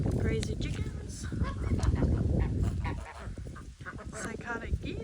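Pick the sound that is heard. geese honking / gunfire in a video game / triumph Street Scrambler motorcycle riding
geese honking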